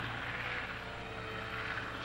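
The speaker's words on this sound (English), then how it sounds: "He sent Rankin up in a plane to bomb the poor natives." A propeller airplane from a 1941 serial drones steadily overhead for about two seconds, a continuous mid-level engine hum with no voices.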